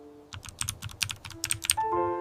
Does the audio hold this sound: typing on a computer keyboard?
yes